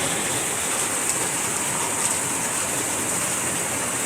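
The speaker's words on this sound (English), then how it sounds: "You can hear the rain hitting the roof here I'm sitting under." Hard rain pounds on a roof overhead, a dense, steady hiss with no letup, loud and close, with no voices over it.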